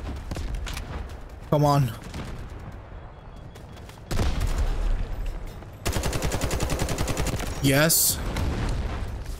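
Gunfire from the video game Delta Force comes as bursts of rapid shots separated by quieter gaps, loud and close, with a player's brief spoken words between them.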